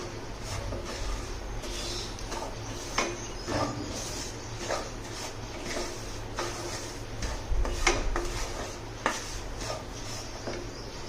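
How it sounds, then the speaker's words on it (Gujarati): Moong dal being stirred and roasted in ghee in a pan over a low flame, with a steady scraping hiss and irregular clinks of the spoon against the pan, close and moderately loud with no voices. "એકદમ હલાવતું રહેવાનું છે અને ધીમા ગેસ પર એને સતત શેકતું રહેવાનું છે"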